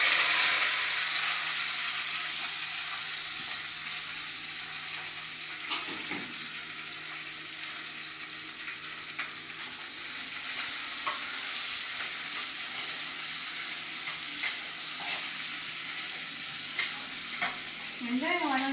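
Onions, green chilies and coriander sautéing in a pan with steady frying sizzle and occasional stirring scrapes, even and close throughout with no talking.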